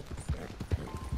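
Horse hooves clip-clop at a quick pace in the video game Red Dead Redemption 2, a steady, close, rhythmic run of hoofbeats.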